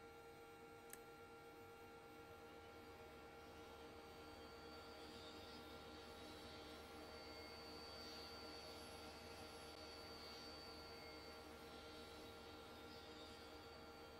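Aircraft engine number 3 spooling up during a cold start in a flight simulator game on Xbox Series X, heard as a steady, continuous turbine whine and hum, with a single brief click near the start.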